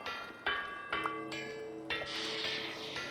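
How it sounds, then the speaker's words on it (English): Bells ring out in Vintage Story, several distinct strikes roughly every half second to second, each with a bright metallic attack and long overlapping sustained tones, fairly loud with no talking. "Ignore hearing the bells, by the way."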